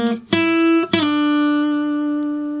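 A guitar phrase from a song: a few clear plucked notes, the last one ringing out and slowly fading, played alone and close.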